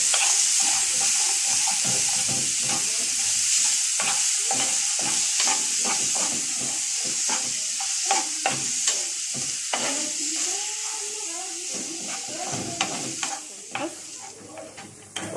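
Green peppers fry in oil in a pan, a steady close sizzle broken by frequent stirring scrapes and clicks, with no voices over it.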